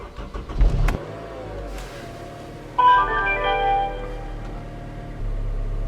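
A Honda Civic Type R FD2 engine fires up from its push-button start, with a short cranking burst, a brief pause, then the engine catching and settling into a steady close idle.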